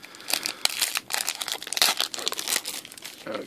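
Crinkly plastic wrapper of a Pokémon trading card pack being torn and crumpled open up close, a burst of sharp rustling crackles over a few seconds.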